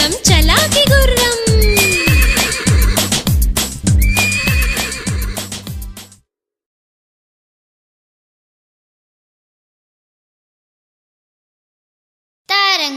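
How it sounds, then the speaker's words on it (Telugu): A cartoon horse neighs and whinnies over a rhythmic clip-clop gallop, loud and close within a Telugu children's nursery song, then cuts to silence before the music briefly returns. "చల్ చల్ చల్ మని తోలుతూ ఉంటే గంతులు వేసు పరిగెడు గుర్రం"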